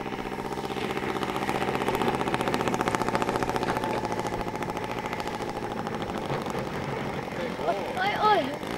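A Piper J3 Cub's small aircraft engine throttling back, a steady close buzzing drone that slowly eases off, with a brief voice near the end.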